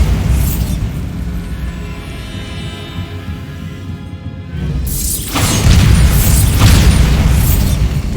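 A Bombarda spell explodes in Hogwarts Legacy, a deep rumbling boom swelling out of a low ambient drone and lingering with debris-like crackle.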